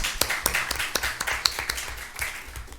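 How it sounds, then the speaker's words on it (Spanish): Applause from a conference audience at an international arbitration event in Peru, scattered individual claps with sharp separate hits rather than a dense roar, moderately close and alone without talk. "le damos la bienvenida a Andrea con un fuerte aplauso"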